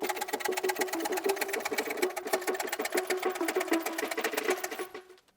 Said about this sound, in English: We'll get the bike jacked up.